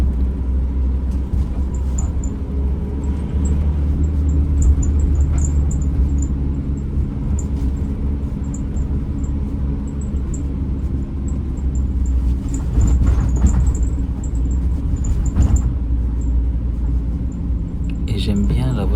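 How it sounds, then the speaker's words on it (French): Steady low rumble of a Renault Clio driving, heard from inside the cabin, with road and engine noise throughout and a person talking over it. "Bonne petite voiture. Après c'est une Clio"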